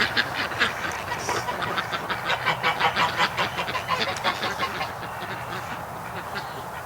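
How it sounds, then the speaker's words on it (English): Geese and Muscovy ducklings outdoors on a cool morning make a rapid run of honking and quacking calls close by, rising in the middle and then easing into softer chatter. "The geese are going in to check on the Muscovies."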